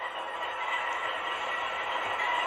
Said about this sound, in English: the decoder on this locomotive requires F8 to start, so we're going to do that real quick